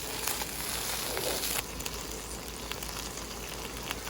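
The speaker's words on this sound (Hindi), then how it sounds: "तो थोड़ा सिमर होने देंगे" Orange chicken sauce made with orange juice simmering in a pan, a soft continuous bubbling hiss with faint pops, no voices.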